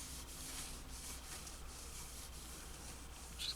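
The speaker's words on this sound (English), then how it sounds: "Just give it a quick little rub down." Meguiar's Ultimate Compound is rubbed by hand over the lacquer of a J-200 koa acoustic guitar, giving a faint, steady swishing with soft repeated strokes.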